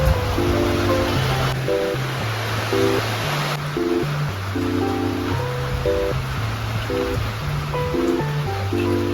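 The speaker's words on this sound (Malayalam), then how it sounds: "It's raining guys." Steady rain hisses as a dense, constant wash of noise during a rainy day in Kerala, with a looping musical backing track playing over it throughout.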